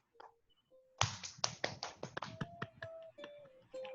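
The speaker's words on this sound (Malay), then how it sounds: "tepukan gemuruh untuk Cikgu Johan." Participants in an online Zoom pantun contest clap for a third-place winner, a burst of scattered hand claps starting after a second, with a few taps before and a brief tone near the end.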